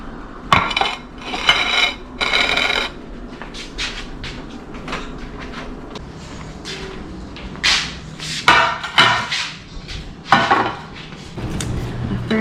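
Plates, pans and utensils clatter and scrape while cooked black tip shark is served up, sharp metallic clinks and knocks arriving in irregular bursts, close and loud with quieter gaps between.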